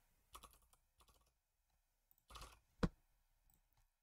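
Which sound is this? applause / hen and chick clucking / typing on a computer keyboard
typing on a computer keyboard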